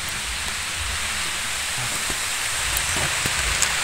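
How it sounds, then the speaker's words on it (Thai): Rain falls steadily in the mountains during mushroom picking, a dense, even hiss of drops on surfaces with a few faint knocks and rustles underneath. "โอ้ยฝนตก"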